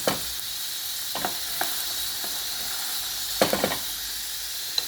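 Steady sizzling of green tomatoes, onion and garlic frying in a pan, with occasional soft pops and stirring scrapes, no talking.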